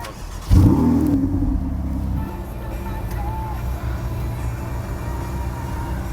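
A Ferrari 488 Spider engine starts with a sudden loud burst, then settles into a steady close idle that holds with slight swells.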